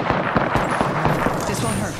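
A rapid burst of automatic rifle fire in the Apex Legends video game, loud and close, with sharp repeated shots over about two seconds, layered with game noise and excited voices.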